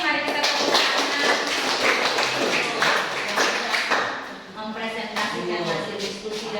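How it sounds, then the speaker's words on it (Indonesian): Classroom audience clapping together after a class group presentation, a dense, steady burst of many hands close by, with voices mixed faintly into the clatter. "Mari kita tepuk tangan"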